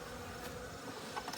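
Honeybees being shaken into a hive box make a dense, steady buzzing swarm sound close to the microphone, continuous and unbroken, with no voices.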